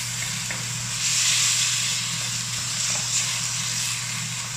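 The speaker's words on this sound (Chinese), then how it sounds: "甲肉炒香了" Meat stir-fried in a wok for a fly's-head dish, a steady sizzle and hiss with a low constant hum underneath and occasional faint utensil scrapes.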